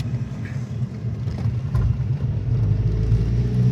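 A 2008 Volkswagen GTI with a swapped engine running on a test drive, a steady low rumble heard from inside the car that rises and thickens as it accelerates, with no talking.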